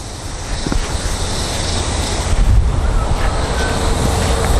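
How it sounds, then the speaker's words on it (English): Strong wind, gusting at about 50 km/h, buffets the microphone at a golf practice tee, a steady loud broadband roar with low rumbling gusts that swell around the middle of the clip. "It's a very windy Practice Tee today."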